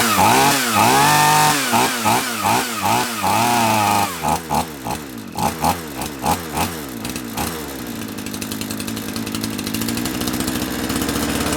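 A small handheld chainsaw engine revs up and down in repeated throttle blips, loud and close, its two-stroke buzz rising and falling before settling into a steady rough idle.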